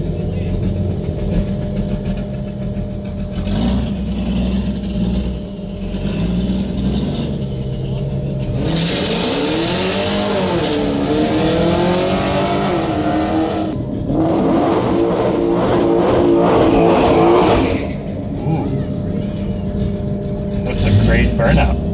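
Ford Mustang Shelby GT500 roaring through a burnout at a drag strip, a loud sustained engine howl and tire noise that rises and swells, with people talking over it.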